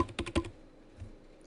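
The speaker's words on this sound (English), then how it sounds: "Hit the arrow keys" A few quick arrow-key taps on a computer keyboard during a camera-control session in Chief Talk X8, clustered in a short burst of three or four clicks, then near silence.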